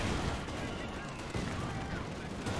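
War video game battle with Sherman and Panzer IV tanks, muffled gunfire and tank cannon shots rumbling continuously at moderate distance, mixed with faint background noise.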